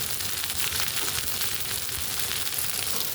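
Broccoli frying in a pan with olive oil, garlic and butter, a steady, bright sizzle with a soft crackle that holds evenly throughout, with no talking.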